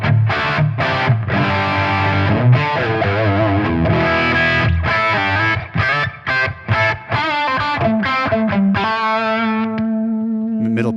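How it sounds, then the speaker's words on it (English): An electric guitar plays through a clean amp channel pushed into heavy distortion, thick saturated chords and notes with short pauses, ending on a long sustained ringing note. "this is going to be that clean channel pushed really heavily into the most distortion it can get"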